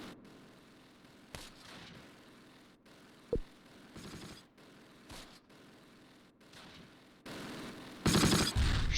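Sherman tank gunfire in the Close Combat World War II strategy game, scattered distant booms and cracks with one sharper shot and a louder burst near the end, over quiet battlefield ambience.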